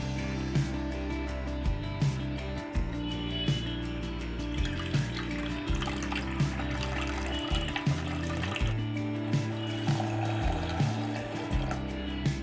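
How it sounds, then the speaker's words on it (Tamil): Water running and splashing steadily into a cooking pan while making wheat rava upma, close by, over a constant low hum that continues throughout. "இதில் இப்போ ரெண்டு கப்பு தண்ணி சேர்த்துருக்கேன்"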